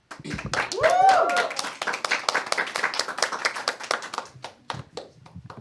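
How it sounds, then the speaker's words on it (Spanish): Studio audience on a Catholic talk show claps to welcome a female guest, a burst of close hand claps with a rising whistle or cheer early on, then steady clapping that thins out toward the end. "La recibimos con un fuerte aplauso"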